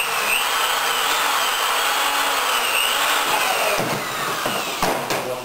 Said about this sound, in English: So I'll do a tentative drill and wire up back here